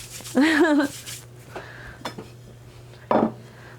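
An empty pie plate is set down on a kitchen counter during apple pie making, giving one short clatter at the end after a spoken word, with faint handling noise and a steady low hum throughout.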